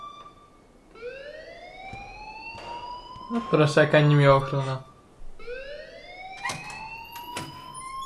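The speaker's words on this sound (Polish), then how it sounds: "please turn off that alarm" An alarm in the video game Life Is Strange sounds as a loud, repeating rising wail. Someone speaks Polish over it in the middle.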